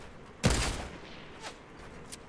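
Enemy gunfire in an online shooter game: one loud, close burst of shots followed by a few fainter, scattered distant shots.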